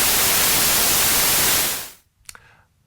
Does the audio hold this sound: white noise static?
yes